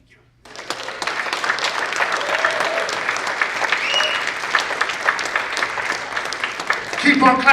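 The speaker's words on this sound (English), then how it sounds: "Keep on clapping" Audience at a poetry slam breaks into applause after a poem, dense clapping rising quickly and holding steady for several seconds, with some cheering and a voice joining near the end.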